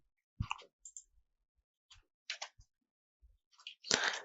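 A computer mouse gives several sharp, quiet clicks spaced irregularly against near silence, with a brief rustle at the end.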